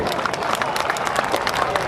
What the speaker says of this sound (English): Give him a round of applause so he can hear you.